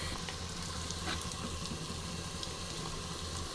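Masala paste for Nellore fish curry frying in oil, a steady, soft crackling sizzle that runs evenly throughout with small pops and no voices.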